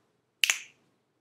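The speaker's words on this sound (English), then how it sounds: "Oh, you did that finger snap?" A single sharp finger snap rings out, crisp and close, with a short decay into silence and no other sound around it.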